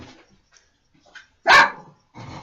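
A dog lets out a single loud sharp bark indoors, preceded by soft faint noises and followed by a quieter rustle.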